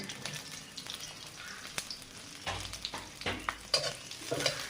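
Chopped onion and green chilli fry in a pan, a crackling sizzle punctuated by repeated stirring scrapes, close and moderately loud, with no talking.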